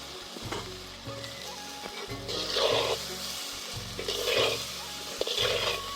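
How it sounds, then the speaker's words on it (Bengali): Fried potato and cauliflower tipped into a pan of cooked-down spice mix, a rising sizzle with bursts of hissing and a low rhythmic hum underneath, no talk. "এর মধ্যে এখন আমি আলু ফুলকপিটা যেটা ভেজে রেখেছিলাম ওটা দিয়ে দেব।"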